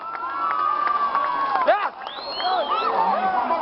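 Crowd cheering and shouting at a 2012 Govinda pathak human-pyramid event, a loud, continuous roar with whoops and children's shouts rising over it, close and dense throughout.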